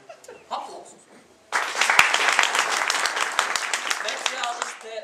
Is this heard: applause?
yes